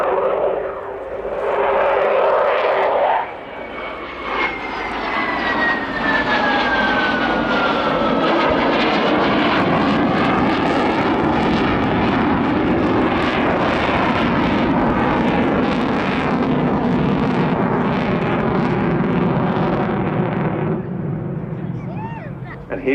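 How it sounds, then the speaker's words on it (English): A Sukhoi Su-27 fighter with two Saturn AL-31F (Lyulka) turbofans roars past at an airshow, a loud sustained jet thunder with a sweeping pitch shift as it passes, with a commentator talking over it. "the two Lyulka, or now Saturn AL-31F turbofans"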